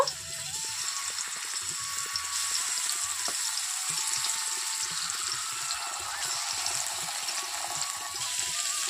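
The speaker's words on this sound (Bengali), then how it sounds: "তেলটাকে খুব ভালো করে গরম করে নিয়েছি আর এর মধ্যে এখন মাছগুলোকে ছেড়ে দেব" Small khoshola fish frying in very hot oil, a constant loud sizzle and crackle that holds steady and close throughout, with no talking.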